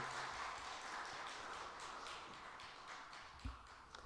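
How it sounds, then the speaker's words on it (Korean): A church congregation claps at an installation service for a pastor, in steady, distant-sounding applause that fades gradually near the end. "우리 박수로 크게 축하해 주시고요."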